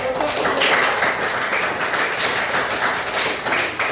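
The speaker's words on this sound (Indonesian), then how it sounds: "tepuk tangan" Applause from a classroom of students, a dense, steady patter of many hands clapping close by for a few seconds, with no voices standing out.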